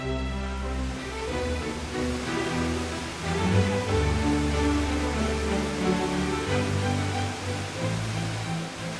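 Devi's Fall, a waterfall in Nepal, roars as a loud, dense, steady rush of falling water, continuous and close throughout.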